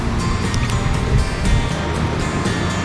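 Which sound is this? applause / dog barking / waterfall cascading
waterfall cascading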